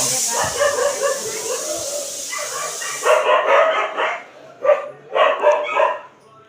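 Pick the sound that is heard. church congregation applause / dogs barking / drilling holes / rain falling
dogs barking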